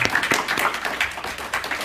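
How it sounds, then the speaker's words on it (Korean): A church congregation at a Sunday service gives a brief burst of welcoming applause, a dense patter of many hands clapping close by, lasting under two seconds. "우리 박수로 환영하겠습니다."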